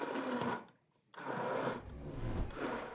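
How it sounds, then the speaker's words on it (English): An immersion blender purees pumpkin soup in a pot, a close whirring buzz that runs in bursts, cuts out briefly, then surges back with a churning, rising drone. "I'm going to puree my soup using an immersion blender."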